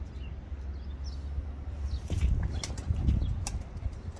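Bursa tumbler pigeons flap their wings in flight, a faint soft fluttering over a low rumble of wind, with a few brief wingbeat bursts growing slightly stronger toward the end.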